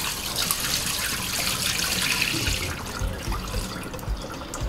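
Rice being washed by hand in water for beans soup with tuwo, a continuous close splashing and swishing of water that softens slightly toward the end.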